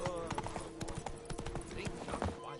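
Horse hooves clip-clop at a steady walking rhythm in Witcher 3: Blood and Wine, close and clear, with speech over the hoofbeats.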